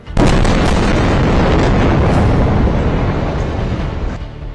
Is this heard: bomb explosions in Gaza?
yes